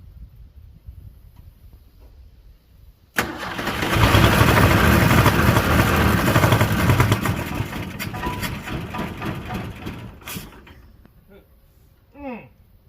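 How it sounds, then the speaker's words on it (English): An old 1976 Ford Power House engine abruptly catches and starts, then runs with a loud, rough, steady roar that slowly eases off, heard up close and alone. "Oh my Lord, it's trying to start."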